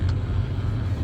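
Busy road traffic at the Trimurti intersection rumbles steadily from inside a car, a low, continuous drone of engines with no distinct individual vehicles standing out.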